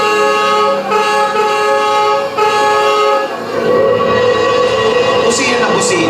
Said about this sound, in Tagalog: Busina na busina.